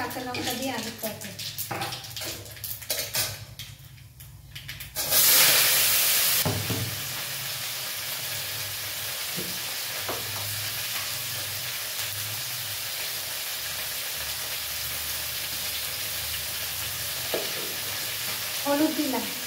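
Potato curry with black cumin and green chili frying in a pan, a steady sizzle with stirring scrapes and a loud burst of hissing when ingredients hit the oil.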